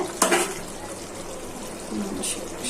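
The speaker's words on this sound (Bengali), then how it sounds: "হালকা একটু ঝোল দিয়ে দিচ্ছি" A little liquid is poured into a shrimp and eggplant curry simmering in a pan, heard as a brief splash followed by a soft, steady trickle and bubbling nearby.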